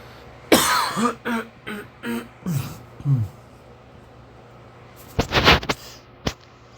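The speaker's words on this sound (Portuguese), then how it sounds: "achei que tinha pausado para tossir, mas não pausou não" A sharp, loud cough bursts out, then a few short throat-clearing grunts; after a quiet pause comes another cluster of harsh coughs and one last brief cough.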